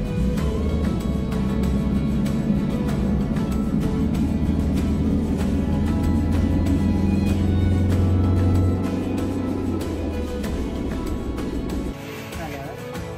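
A camper van drives along a road in Switzerland, its engine and tyre rumble a steady, loud drone throughout, easing off near the end, with music playing over it.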